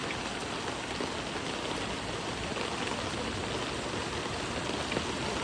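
A creek under a bridge by a river rushes in a steady, dense wash of flowing water with no pauses and no voices.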